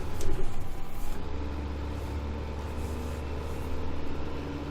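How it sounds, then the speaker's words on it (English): A tractor engine in the Farming Simulator 2015 video game drones with a continuous low hum and a slight rise in the opening second, steady and close with no talking. "We may as well bring the yellow trailer down with this tractor."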